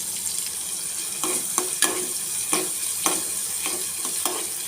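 Steady close sizzle of chopped tomato, ground ginger and chilli frying in oil tempered with popping mustard and cumin seeds and curry leaves, with a spoon scraping the pan every half second or so and no voices.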